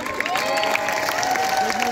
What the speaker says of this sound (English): One more big applause for our gladiators!